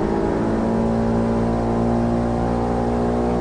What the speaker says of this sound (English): Quite the rasps that exhaust on that thing,